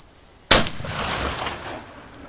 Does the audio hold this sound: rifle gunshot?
yes